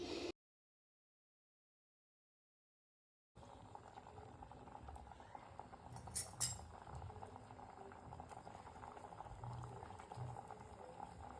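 A covered pot of Konkan-style prawn curry bubbles softly at a low simmer, faint and close, with a brief metallic clink partway through after a short silent gap at the start.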